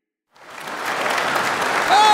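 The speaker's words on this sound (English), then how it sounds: "Clap for me, bitch! Get me lit!" A crowd claps and cheers for a podcast host's entrance, the applause swelling in after a brief silence and continuing steadily and loudly to the end.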